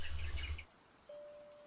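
A pet bird gives a few quick, faint chirps indoors, followed by a thin, steady whistle-like tone.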